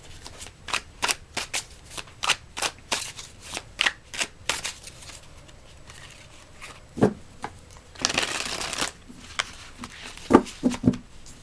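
Oracle cards riffled and shuffled by hand, a long run of sharp papery snaps in irregular bursts, close and fairly quiet, with a denser flurry near the end and no talking.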